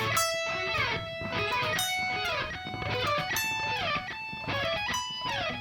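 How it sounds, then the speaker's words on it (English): An electric guitar plays quick raked arpeggios from a guitar solo in repeated bursts, bright and busy, with notes ringing into one another. "And then you play this series of little raked arpeggios."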